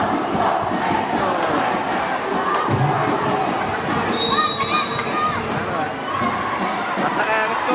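A large crowd roars and cheers loudly and continuously at a tied volleyball match between Valencia City and Misamis Oriental, with shouting voices blending into a dense, sustained din.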